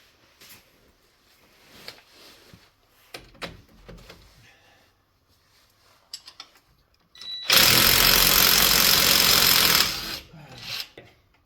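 A lime green impact wrench zips a nut off the front end of a 2000 Ford Excursion 4x4: a few light clanks, then one loud, steady rattling burst lasting about two and a half seconds, close by.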